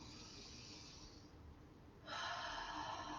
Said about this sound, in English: So lateral breathing.